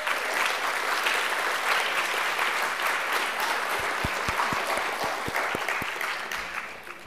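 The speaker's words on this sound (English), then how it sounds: "Let's give them a round of applause." Audience applause at a high school National Honor Society induction ceremony, a broad, steady wash of clapping from a large crowd, with a few louder low thumps partway through before it eases off.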